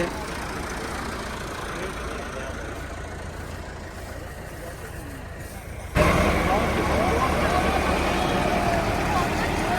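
Tractor engine pulling a loaded trailer on a farm track, a steady low rumble throughout that grows louder and rougher about two thirds of the way in as the tractor pushes harder, with faint voices in the background.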